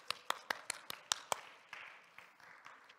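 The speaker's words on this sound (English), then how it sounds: "Yeah, Al, we can clap." A small church congregation gives a brief round of sharp, distinct hand claps at a steady rhythm, fairly close, quickly thinning out into a few scattered, softer claps.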